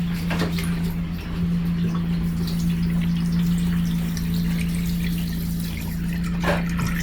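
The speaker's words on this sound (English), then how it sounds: "I just like to wash it until the water appears clearer." Tap water runs steadily over raw chicken as it is rinsed, a continuous close splashing gush with a low pump-like hum underneath and no talking.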